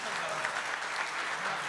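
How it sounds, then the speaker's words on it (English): Audience applause for six teams at the close of an InspiriaQ quiz contest, a steady wash of many hands clapping at moderate distance throughout, with no pauses. "may I urge all of you to please do clap for all the 6 teams"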